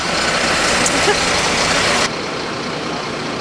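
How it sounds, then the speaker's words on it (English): A Vactor sewer vacuum truck runs nearby with a loud, broadband rushing roar of suction and engine that drops abruptly to a quieter steady hum partway through. "The Vactor works like a giant vacuum cleaner."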